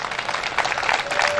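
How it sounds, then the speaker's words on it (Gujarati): Audience at a village Shrimad Bhagavad Katha gathering in Sitapur Panasada breaks into applause, a brief burst of scattered hand clapping at moderate distance, steady throughout. "એમના માટે પણ એક તાળીઓ પાડી"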